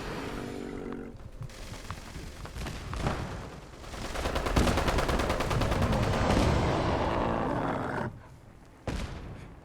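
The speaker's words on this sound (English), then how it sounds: "Alright, the nuke's about to launch." A nuke launches in Fallout 76 as a loud, sustained roaring rumble that builds into a broad blast of noise, then cuts back near the end with a short final burst.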